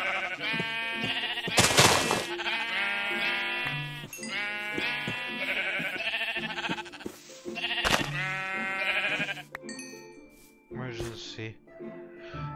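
Repeated sheep bleats from the video game Minecraft, several harmonic calls spread across the clip over steady game music, with a brief louder burst near the start.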